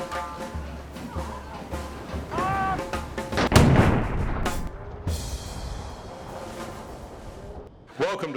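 A coastal artillery gun at Fort Scratchley fires once, a loud, booming report that rolls and echoes away over several seconds, with crowd murmur and a voice before the shot.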